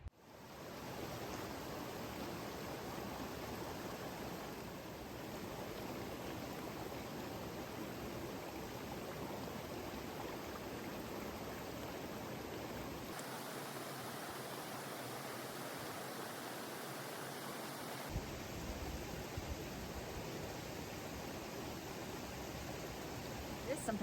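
Steady broadband rushing of a flowing mountain stream along the Colorado Trail, continuous and fairly loud throughout with no talking.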